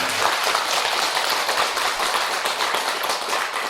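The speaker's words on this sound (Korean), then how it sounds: "박수 한번 크게 보내드립니다" Applause from an audience at a Buddhist spring-prayer closing ceremony, a dense steady patter of many hands clapping throughout at moderate loudness with no talk over it.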